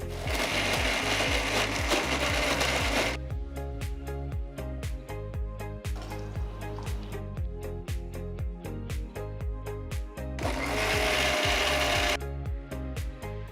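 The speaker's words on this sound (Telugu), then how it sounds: "ఇందులో కొన్ని నీళ్లు పోసి మెత్తటి పేస్ట్ అయ్యేట్టు రుబ్బుకోవాలి" A mixer grinder blends spice paste with water in its jar, with two loud harsh whirring bursts, one at the start and a shorter one near the end. Steady tonal background sound fills the gap between them.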